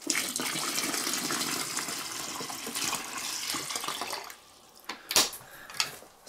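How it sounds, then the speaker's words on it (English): Water pours steadily into a container being turned into a pool for a native UK bug enclosure, a continuous rushing flow that stops after about four seconds, followed by a few louder splashes and handling knocks. "such as filling up this container here with water"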